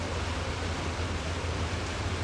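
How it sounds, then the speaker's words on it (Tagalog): Heavy, unrelenting rain falls during flooding in Sampaloc, a steady broadband hiss with a low rumbling undertone, constant and fairly close, with no voices over it. "Oh, ulan na naman oh. Ayaw huminto eh."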